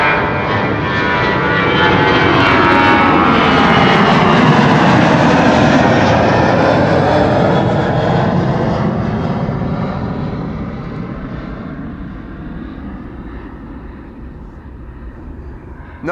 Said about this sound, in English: This is KLM flight 1571. 737-900 to Porto in Portugal.